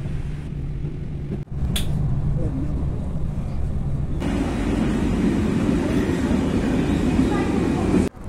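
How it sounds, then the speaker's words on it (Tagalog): Steady, close rumble from inside a moving train in Paris, with a sharp jolt early on and then a louder, even roar of wheels and carriage noise. Faint voices sit under the din. "Yan, nakasakay na rin kami ng train."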